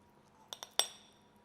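A spoon scoops baked banana cobbler from a dish, clinking against it in two light taps and then a sharper ringing clink, close and quiet, with no speech.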